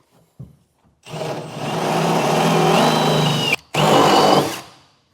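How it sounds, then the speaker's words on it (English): A power drill with a 9/16 bit runs steadily through truck frame metal for several seconds, dips briefly, then whines again before spinning down. "Now I'll get my 9/16 drill bit and get these opened up."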